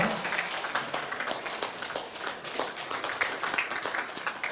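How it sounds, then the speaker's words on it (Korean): A church congregation applauds during a Sunday worship service, giving steady, fairly soft clapping that comes across as distant and sustained, with no voices over it. "박수로 축하드리겠습니다."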